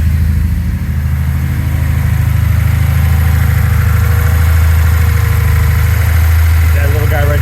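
A Lexus IS F engine is held steady at about 2,000 RPM during an intake valve and top-end cleaning job. It makes a loud, constant low drone that is close to the listener, with a voice speaking briefly over it.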